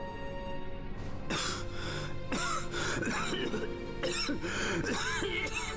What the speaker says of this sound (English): Convenient cough timing.